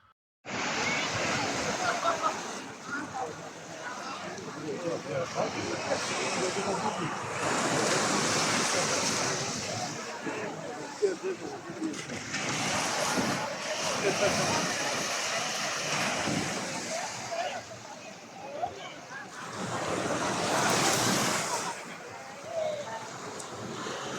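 Surf rolls onto the sand at Maya Bay near Phuket, a busy beach: repeated swells of wave wash rising and falling every few seconds, mixed with wind buffeting the microphone and faint voices in the background.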